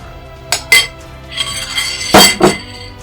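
A spoon clinks against a cereal bowl holding Rice Krispies, giving a few sharp metallic taps close by with short scraping between them.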